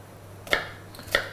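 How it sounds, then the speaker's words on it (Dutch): Knife chopping finely for tartare as part of a Christmas starter, two separate sharp cuts on a board about half a second apart, close and fairly quiet, no speech. "Voor tartaar gaan we wel zorgen dat we echt mooi fijn snipperen."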